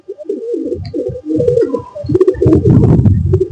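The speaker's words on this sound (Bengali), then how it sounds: "আমার হাতে একটা কবুতর" A pigeon held in the hand coos repeatedly up close, low throaty rolling calls in quick succession, with faint rustling and a brief thin chirp in the background.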